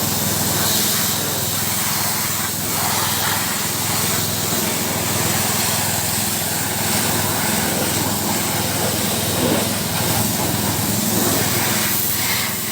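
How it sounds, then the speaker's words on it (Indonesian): High-pressure water sprays steadily onto a motorcycle during a touchless wash, a continuous loud hiss with a motor humming underneath, unbroken for the whole stretch. "ini disemprot pakai air bertekanan tinggi"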